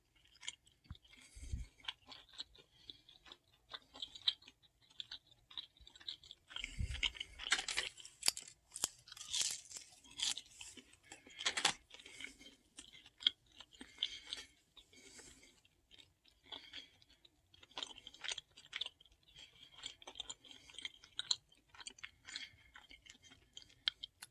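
Crunchy cheese puffs are chewed close to the mic, with repeated crisp crunches and bites over a long stretch and no talking.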